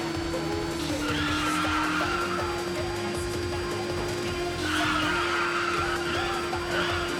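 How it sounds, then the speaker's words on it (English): Car tyres skid and screech through drifts in the Initial D Special Stage racing game, a steady engine drone running throughout with two sustained squeal bursts, loud and continuous, no talking. "the drifting is a lot easier right now"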